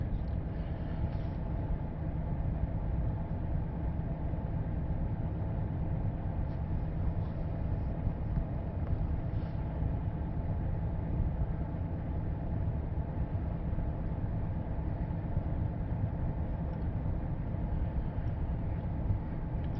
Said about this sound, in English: RPM's coming down. It's shifting again. RPM will go up and then it'll shift.